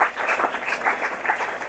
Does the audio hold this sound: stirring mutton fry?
no